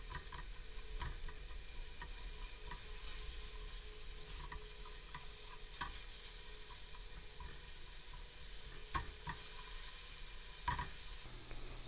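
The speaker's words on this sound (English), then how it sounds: "add the cassia bark, lightly cracked cardamom pods and onion and fry for about 7 minutes until golden" Onions, cassia bark and cracked cardamom pods frying in oil in a pan for a British Indian restaurant-style pasanda: a continuous soft sizzle with occasional light stirring clicks and scrapes, fairly quiet and without speech.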